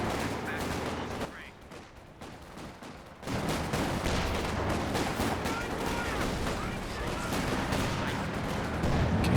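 Artillery and gunfire in a Company of Heroes 2 match, a quieter stretch giving way to a dense, steady barrage of shots and blasts, with a voice talking over part of it.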